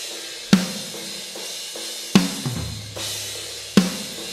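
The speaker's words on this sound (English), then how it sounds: "Then there's another bottom snare mic." A snare drum is heard through the bottom snare mic of a metal drum mix, striking three times about every 1.6 seconds with crisp, rattly attacks over a low thud of kick drum bleed and a faint cymbal wash.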